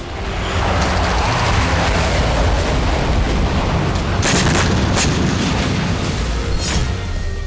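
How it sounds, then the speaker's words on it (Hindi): Russian BM-21 Grad multiple rocket launcher firing a sustained barrage during fighting around Bakhmut, Ukraine: a loud, continuous roar of launches with heavier booming bursts midway and near the end, and no voices. "अब इस मल्टी रॉकेट लॉन्चर से उसी ठिकाने पर लगातार गोलाबारी की जा रही है"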